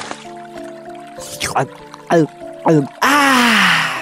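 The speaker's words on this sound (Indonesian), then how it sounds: "Kancil pun berhenti di tepian sungai untuk melepas dahaga." A cartoon mouse-deer drinks river water: bubbly, pitch-sweeping gulp and drip effects come in short bursts, then a longer, louder liquid splash closes the sequence.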